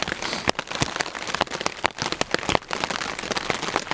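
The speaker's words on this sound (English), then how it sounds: "it's been raining steady all day." Steady rain pattering on a surface with scattered louder drops and crackling taps, a continuous close wash of sound with no voices, falling on a winter campsite with a tarp and fire.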